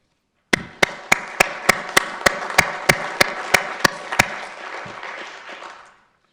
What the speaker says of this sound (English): So I'd like to give a round of applause to all the department heads and employees of the City of Fargo that are here today.